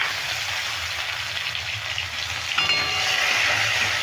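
Chopped tomato tipped into hot oil with tempering spices sizzles in a steady broadband hiss, swelling into a louder, crackling fry partway through as the pieces hit the pan; no voices.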